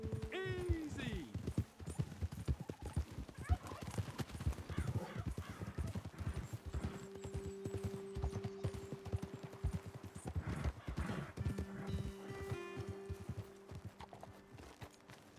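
Horses trot along a trail in the open-world western video game Red Dead Redemption 2, their hooves making a steady rhythmic clip-clop close by, with a brief whinny near the start and voices talking over the hoofbeats.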